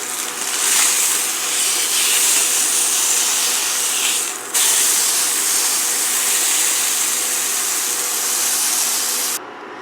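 A beef roast sears in a hot pan with a steady, loud, broad sizzling hiss that holds nearly unbroken throughout, dipping briefly once before resuming and then cutting off near the end.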